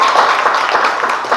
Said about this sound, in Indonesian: kasih tepuk tangan untuk Faik